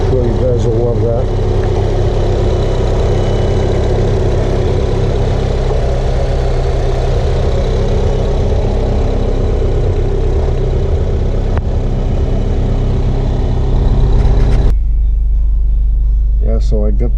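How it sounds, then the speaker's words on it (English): A Honda Civic fitted with an Acuity cold air intake idles with a deep, steady low rumble close by, running continuously before cutting sharply near the end to leave only a low hum. "I am going to do some driving exhaust sounds and intake also."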